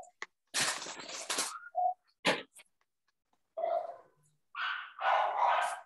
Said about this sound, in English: your dogs are barking, telling you not alone either